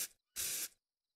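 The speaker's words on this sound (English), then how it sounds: "With a self-interact key and a spray can and an inventory," A spray can tags a wall in the Arma video game: two hissing bursts, a short one followed by a louder one lasting about half a second, then silence, with no voices.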